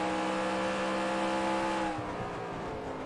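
Race car engine in a racing video game roars at high revs with steady harmonic whine, then drops in pitch as it brakes hard into a corner before picking up again; loud and continuous, no talk.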